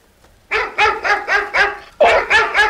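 A chained Great Dane barks loudly and close by in a quick, rhythmic run of deep barks, pauses briefly, then launches into another burst.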